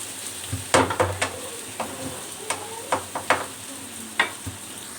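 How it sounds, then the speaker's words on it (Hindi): Okra (lady finger) frying with spices in a pan for a curry, a soft sizzle underneath repeated sharp scraping clacks of a spoon stirring at an uneven rhythm, close and moderately loud, with no talking. "भिंडी को हमने अच्छे तरीके से भून लिया है"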